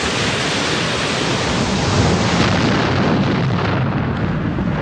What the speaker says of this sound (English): These erupt when magma below forces its escape.